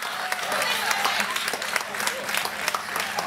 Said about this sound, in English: Give Johnny a round of applause